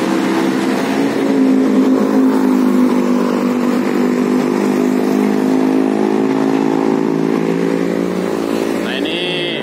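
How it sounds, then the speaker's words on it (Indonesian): An old-chassis Hino front-engine bus idles with a steady, loud mid-pitched drone and a slight rise in pitch toward the end. No one speaks over it. "Nah ini salah satu bus alternatif kalau mau ke Merak."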